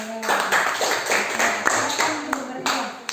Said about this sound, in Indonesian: Kalau begitu kita tepuk tangan dulu.